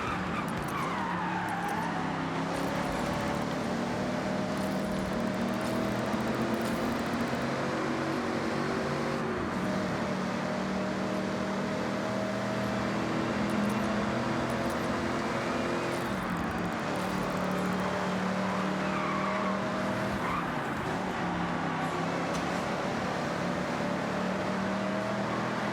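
A 1984 De Tomaso Pantera GT5 races in Forza Horizon 6, its engine droning loud and steady throughout, revs climbing and dropping through gear changes with occasional tire noise.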